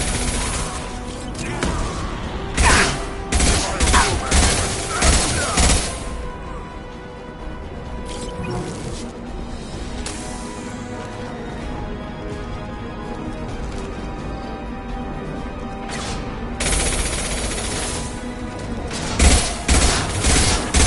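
Gunfire and explosions from combat in the video game Mass Effect 2: loud crashing bursts of shots and blasts cluster at the start, flare again near the end, and give way to a quieter stretch in the middle.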